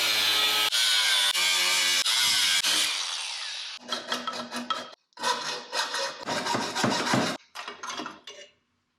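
An old DeLorean exhaust flange is cut off with a power tool, first a loud steady whining grind, then a run of close, rasping sawing strokes in bursts before stopping.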